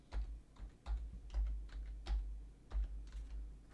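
Close, irregular clicking of keys as a word is typed on a computer keyboard, about a dozen soft taps with no talking.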